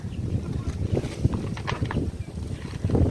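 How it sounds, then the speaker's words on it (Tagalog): Strong wind roars and buffets the microphone steadily, with gusty rumbling and tarpaulins flapping throughout. "Sobrang lakas talaga ng hangin dito."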